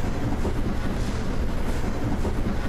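A train in Transport Fever 2 runs steadily along the rails with a continuous rumble and faint rhythmic clatter, with no voices.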